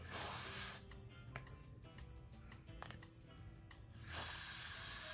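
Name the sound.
hair spray on wig hairline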